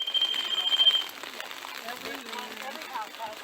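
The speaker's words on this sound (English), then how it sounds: "you're not going to want to listen to this alarm going on forever" A sewer wet well alarm beeps with a high electronic tone at the start, while someone talks over it and other background noise.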